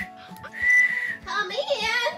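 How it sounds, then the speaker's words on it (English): A child whistles at home, a thin sustained tone and then a wavering, sliding whistle, with a brief pause between the two parts. "I'm going to whistle for Grandma."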